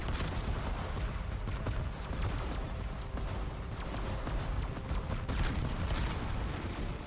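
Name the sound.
continuous gunfire, Black Ops 7 Zombies video game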